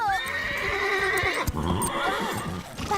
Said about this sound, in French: Doudou, je n'ai pas l'habitude de cette selle, ni de ce cheval.